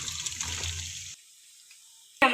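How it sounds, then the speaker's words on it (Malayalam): Boiled pasta water pouring off as the pot is drained, a close rushing gush for about a second before dropping to near quiet, followed by a brief sharp clatter. "ഇനി നമുക്കിതൊന്ന് ഊറ്റിയെടുക്കാം."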